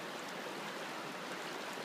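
Strong river current flowing through the Virgin Narrows canyon in Zion National Park, a steady, dense broadband rush of water that stays close and constant throughout with no voices.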